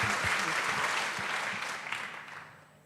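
Live audience at a women's empowerment alumni event breaking into sustained applause, a dense wash of clapping that stays loud for a couple of seconds before tapering off.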